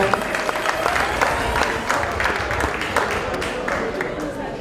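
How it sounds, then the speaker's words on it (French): Sustained applause from a crowd at a guidebook presentation event, steady overlapping clapping with a few scattered cheers, fairly loud and continuous. "applaudissez-les très fort"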